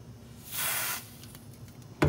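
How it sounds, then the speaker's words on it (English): A short, sharp hiss of freeze spray on a component of a Kepco ABC 25-4DM switch-mode DC power supply under repair, lasting about half a second, followed by quiet and a small click at the end. "we'll hit that with the freeze spray again"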